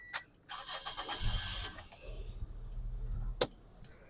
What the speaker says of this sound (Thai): เรามาฟังเสียงเครื่องยนต์กันนะครับ